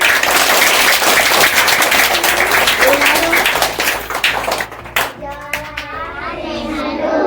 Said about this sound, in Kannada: ಮಕ್ಕಳೆಲ್ಲರೂ ಚಪ್ಪಾಳೆ ಹಾಕಿ ಜೋರಾಗಿ